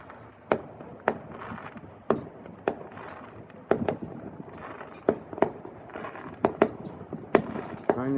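Canada Day fireworks burst overhead in a rapid series of sharp, loud bangs, some close and some distant toward the horizon, with crackling between the main explosions.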